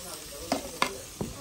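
Onions fry quietly in a pan, a soft sizzle broken by three or four sharp scrapes as a spoon stirs them.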